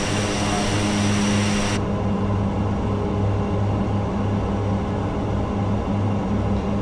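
A steady, loud aircraft engine drone fills a Microsoft Flight Simulator 2020 flight out of TKPK, a continuous propeller hum that dips slightly in tone as power is pulled back, with no voices.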